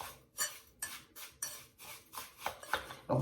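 Coconut oil is worked in a small bowl for a homemade body scrub, producing a series of short scraping, clinking strokes of a utensil against the container, close and quiet, coming in an uneven rhythm roughly every half second.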